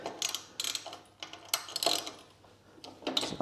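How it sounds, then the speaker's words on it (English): A screw being slackened on a bar mount of a Royal Enfield Classic 350, heard as a series of close metallic ratcheting clicks and taps in irregular bursts, fairly quiet with no voices. "slacken that screw slightly."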